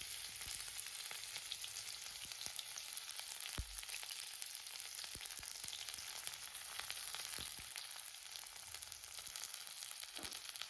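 Chopped onion sizzles in hot oil in a home kitchen, a soft, continuous crackle with a few sharper clicks and scrapes from stirring, fairly quiet and without talk.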